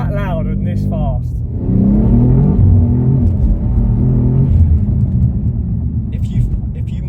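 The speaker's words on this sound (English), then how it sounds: "that M4 is loud" A loud BMW M4 xDrive with the 750 hp S58 engine driving fast, its deep engine roar building under acceleration and filling the cabin, with someone talking over it.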